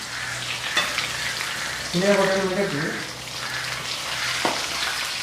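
Chicken sizzles and crackles steadily in a hot pan, a close, continuous fry with a brief voice rising over it midway.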